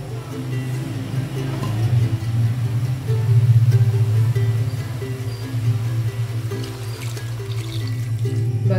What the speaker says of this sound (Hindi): साथ ही हम इसमें पानी डाल देंगे।